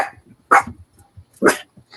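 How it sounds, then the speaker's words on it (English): A pet dog named Bree gives two sharp, loud barks close by, about a second apart, with soft sounds and quiet between them. "Why are we barking?"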